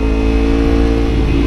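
A loud, throaty Kawasaki Ninja 250 FI engine with an aftermarket Akrapovic exhaust roars close by, its deep exhaust note holding strong throughout with slight surges.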